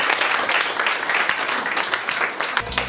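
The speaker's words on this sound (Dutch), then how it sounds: "Applaus, applaus." Children at a picture-book session in Sipaliwini applaud together in a dense, steady burst of clapping that fills about three seconds before cutting off, followed by a brief low tone.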